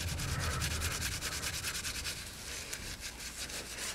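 An aluminum motorcycle part is sanded to take out 2000 grit scratches, a close, quiet rhythmic rubbing with quick back-and-forth strokes and no voices.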